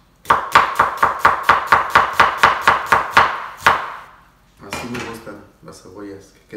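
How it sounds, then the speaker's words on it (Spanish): Knife chopping an onion into half-moon slices on a board, about a dozen quick, evenly spaced close taps followed by a pause and softer shuffling sounds. "mientras se marina y voy a picar la cebollita"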